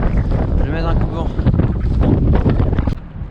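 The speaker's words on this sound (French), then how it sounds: "vu le vent qu'il y a là" Strong storm wind buffeting the microphone while cycling near Longchamp, a loud, continuous rumbling roar with gusty surges, with a voice speaking through it.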